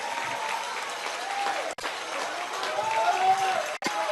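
Baseball crowd at a Wilson Tobs versus Fuquay-Varina game cheering and applauding on a full count, a steady, broad wash of clapping and cheers that holds throughout with two brief dropouts.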